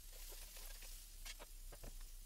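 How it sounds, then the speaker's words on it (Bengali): Quiet sizzling of onions frying in a pan, a soft crackle with a few scraping stirs, faint and close, no talking. "এবার পেঁয়াজটা দিয়ে সুন্দর করে আমরা ভেজে নিতে"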